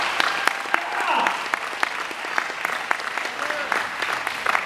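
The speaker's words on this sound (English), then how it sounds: "How about another round of applause for our Kumu, Robert Rubin, and our Hula brothers back there" Audience applause for the Kumu and hula brothers at a Hawaiian music performance, a steady patter of clapping with sharp individual claps standing out, and a voice or two calling out over it.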